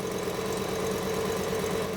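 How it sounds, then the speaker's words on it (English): A Fiat Coupe engine idles unevenly with a misfire, a steady close rumble with a knocking, uneven beat throughout. "the air filter's making it misfire, mate."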